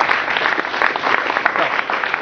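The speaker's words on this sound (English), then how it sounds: "can we give a round of applause for our debaters?" An audience at a high school debate breaks into brisk, dense applause, a steady wash of many hands clapping throughout the short moment with no voices.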